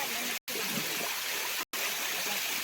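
A natural spring stream on a Bhimashankar hill trek runs in a steady, faint hiss of flowing water, interrupted by two brief dropouts.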